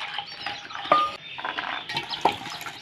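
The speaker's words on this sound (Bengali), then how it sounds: "এখানে মটরশুঁটিগুলো ধুয়ে নিয়েছি" Shelled green peas are swished and washed in water, with soft splashing and stirring plus two sharp clinks of utensils against a bowl, close and moderately loud.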